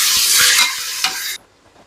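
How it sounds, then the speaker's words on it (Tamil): Onions and green chillies sauté in oil in a pan, giving a loud sizzling hiss with a stirring scrape that cuts off abruptly after about a second and a half. "வெங்காயம் நல்லா வதங்கட்டும்"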